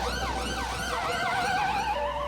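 An ambulance siren wails steadily with rising and falling tones, loud and close, over a low traffic rumble, with no voices.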